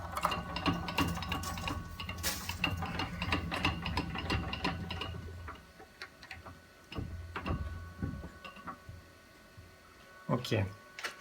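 A lathe tailstock is wound back in, its handwheel and mechanism giving off a run of rapid ratcheting clicks and ticks, dense at first and then sparser, with someone talking over it.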